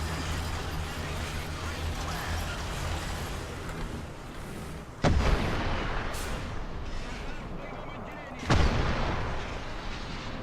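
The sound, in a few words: Tunguska firing missiles in video game War Thunder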